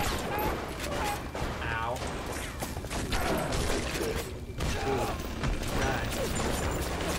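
Automated turret fire in the video game Bioshock Remastered, sustained rattling bursts mixed with mechanical clatter and game effects, loud and continuous, with a player's brief exclamation over it.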